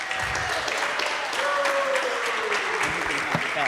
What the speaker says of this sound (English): so let's give Mrs. Elizabeth Scott our round of applause.